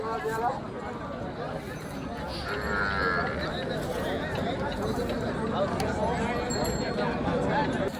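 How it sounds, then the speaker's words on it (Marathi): Cow mooing at a busy cattle market where pregnant cows are being sold, a drawn-out low call rising midway over a steady crowd din and nearby chatter. "बघू शकता ही पण गाभण गाय आहे."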